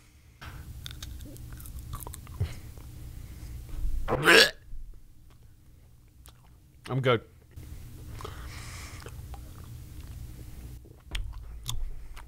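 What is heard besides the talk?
chewing and eating paper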